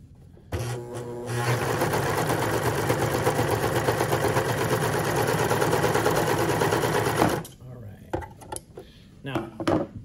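A serger overlock sewing machine stitching a fabric sample's last side runs in a steady, dense mechanical whir for about seven seconds, then stops; quiet handling noises and faint speech follow.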